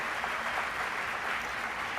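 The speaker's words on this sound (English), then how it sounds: "If you would just give them one more round of applause," Audience applause at an elementary school awards ceremony for grades 1 to 3, a steady dense clapping from a crowd that holds even through the whole stretch, with no talk over it.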